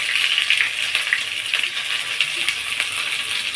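Onions and green chillies frying in oil with mustard seeds and cumin, a dense, even high sizzle with small crackles and spatters throughout, moderately loud and close, with no talking.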